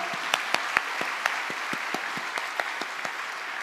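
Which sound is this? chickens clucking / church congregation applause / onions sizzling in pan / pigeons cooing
church congregation applause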